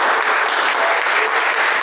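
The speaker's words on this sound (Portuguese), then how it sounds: "Você pode aplaudir hoje ao Senhor Jesus por isso?" Church congregation applauding during a sermon, a dense, loud wash of clapping from many people, sustained and even throughout with no pauses.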